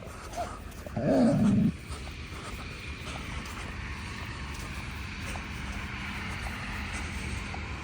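A dog gives one short, low growl close by, followed by a quiet hum of background noise.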